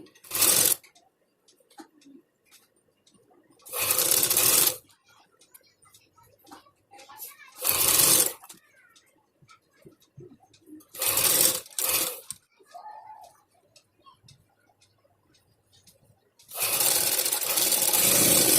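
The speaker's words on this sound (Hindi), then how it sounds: "सीधी सीधी सिलाई करके इसे तैयार कर लेना है।" A sewing machine runs straight seams on cotton frock-style kurti strips for a sleeve, giving five loud whirring bursts of several seconds each, separated by near-silent pauses.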